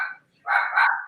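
A dog barks twice in quick succession during a live stream, a short sharp bark followed after a brief gap by a longer, louder one, fairly close and clear.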